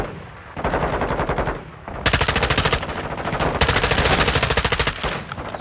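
Automatic gunfire from a gun in Call of Duty: Modern Warfare II, rapid loud bursts of shots with brief pauses, close and dominant.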